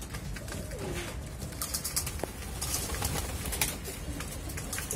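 Antique breed pigeons coo softly amid a busy, noisy background of fluttering and rustling, with several birds calling at once.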